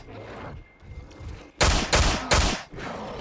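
Three loud, evenly spaced gunshots from a handgun in the game Miscreated, each a sharp close crack with a short decay, following a quieter stretch of ambient game sound.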